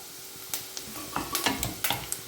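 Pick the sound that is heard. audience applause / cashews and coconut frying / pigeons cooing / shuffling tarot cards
cashews and coconut frying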